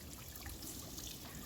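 Harvested hollow, buoyant garden produce is washed off in backyard pool water, giving a soft, steady trickle and slosh that is faint and close.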